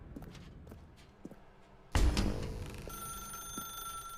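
A telephone rings in the video game The Stanley Parable: a sudden loud onset followed by a sustained electronic ringing tone, preceded by quiet footstep-like taps.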